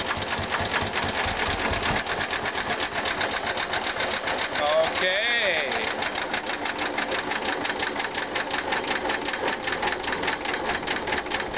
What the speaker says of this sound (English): waiting until the tractor has stopped